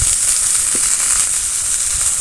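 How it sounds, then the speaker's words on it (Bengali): Thinly sliced small potatoes with salt sizzle and fry in a pan, a steady, dense crackling hiss that carries evenly from start to finish with no voices over it. "আলুটা একটু ভেজে নেব"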